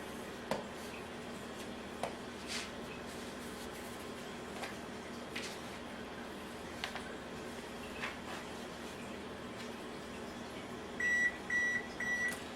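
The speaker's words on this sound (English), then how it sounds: "Oven just beeped, it's ready." Sharp electronic beeps from an oven signalling it has finished preheating ring out in a short series near the end, over a steady low kitchen hum.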